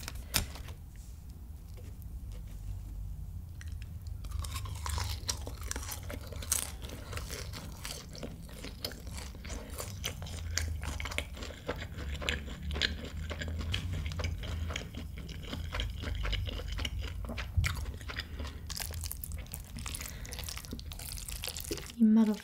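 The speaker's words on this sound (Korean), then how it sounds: "탕수육 한 입 더 먹고" Jjajang noodles and crispy sweet and sour pork being eaten up close, with steady crunching, chewing and slurping that go on throughout, and a voice speaking briefly over the eating.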